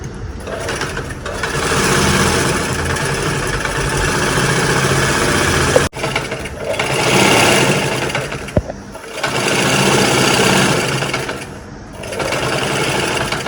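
Sewing machine stitching around the frill of a saree being made into an Anarkali, running in several long steady whirring bursts separated by short pauses and a clack, close and loud with no talk.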